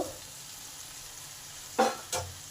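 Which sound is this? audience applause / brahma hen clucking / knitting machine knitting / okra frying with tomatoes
okra frying with tomatoes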